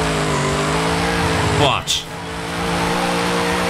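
A car in the racing game Forza Horizon 5 drones at low rpm with a steady engine tone, briefly broken by a quick rising sweep and a short sharp burst midway, while a voice speaks over it.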